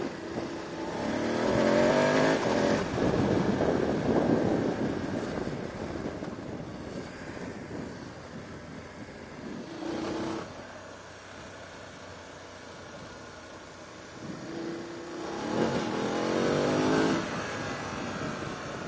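A KTM 790 Adventure motorcycle's engine and exhaust while riding, rising and falling in loud surges of acceleration around a lower steady drone, with gear-change dips between pulls.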